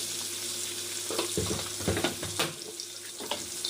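An egg fry seasoned with salt, turmeric and chili powder is stirred in a pan, soft sizzling under irregular scraping and knocking spatula strokes, close and quiet.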